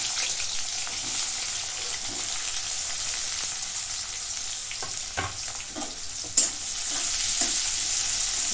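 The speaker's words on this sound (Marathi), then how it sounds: "कांदा चांगला भाजून घेते" Sliced onion frying in a kadai with cardamom and a piece of cinnamon, a steady soft sizzle with occasional stirring scrapes and a sharper clatter near the end, no talking.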